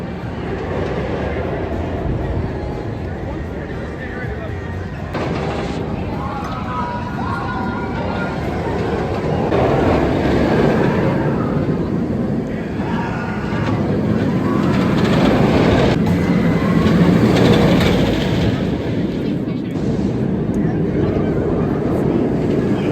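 Raging Bull roller coaster at Six Flags Great America, a loud continuous rumble and roar of the train running along the track, swelling and fading through the ride with wind noise and faint rider voices.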